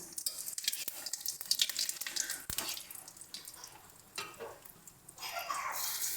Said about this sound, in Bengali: দেখো তেলটা আমাদের গরম হয়ে গেছে এবার এর মধ্যে আমরা তেজপাতা দিয়ে দিচ্ছি